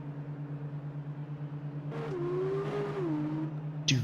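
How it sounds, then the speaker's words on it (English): Formula 2 race car engine in a racing video game, a steady drone then a rising, wavering rev with a sharp burst at the end, moderately loud and alone. "I heard a car racing"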